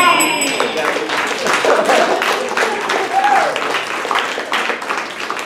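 An audience claps in a steady, fairly loud burst of applause, with a few voices and brief tonal sounds mixed into the clapping.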